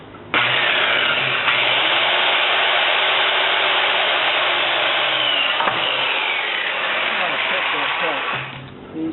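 A power saw with a new carbide blade cuts through wood for a stockade fence gate, a loud, steady broadband whine running nearly nine seconds and dropping off at the end.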